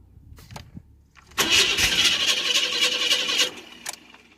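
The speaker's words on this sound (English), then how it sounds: "I just want to turn it over and let you hear it spit and sputter" A junkyard Chevrolet S10 truck engine cranking over, a few faint clicks followed by about two seconds of loud rhythmic cranking and sputtering that stops abruptly, then a quiet tick.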